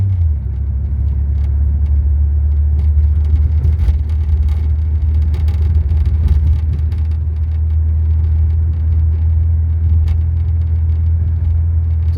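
A 1990 Eagle Premier car on the move gives a steady, close engine and road rumble from inside the cabin, deep and even throughout with no one talking.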